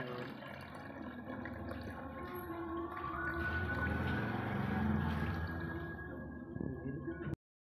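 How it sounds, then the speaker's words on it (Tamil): Water pours steadily into a betta fish tank for about seven seconds, a continuous splashing and gurgling that swells slightly midway before cutting off abruptly. "இப்போ வந்து நம்ம வாட்டர் சேர்த்துக்கலாம்."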